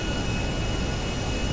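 Airplane engine in the video game GTA V, a steady, loud droning hum that holds constant without talk.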